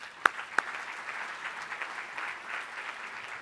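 An audience at a community awards ceremony applauds the nominees, a sustained wash of clapping opened by two sharp, loud claps near the front.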